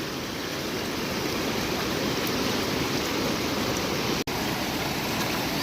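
Floodwater rushes after heavy monsoon rain in Konkan, a loud continuous broadband roar that holds steady from start to finish, with one brief dropout near the end.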